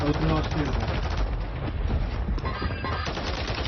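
Rapid automatic gunfire from the battle royale video game Warzone, sustained bursts mixed with game effects and loud throughout, with people talking over the shooting.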